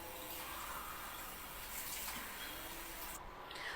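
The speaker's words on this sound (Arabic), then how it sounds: "جبت هضيف 4 كوبايات ميه" Water poured from cups into a pot for Knorr chicken cream soup, a steady close gushing stream that runs throughout and then briefly thins near the end, with no talk.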